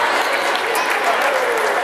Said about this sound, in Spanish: Fuerte el aplauso para todos